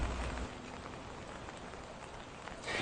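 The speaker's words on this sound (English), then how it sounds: "Now I know you guys can hear the rushing water behind me." Steady broadband rush of flooding creek water after a day of rain, loud and continuous with no pauses, running close by.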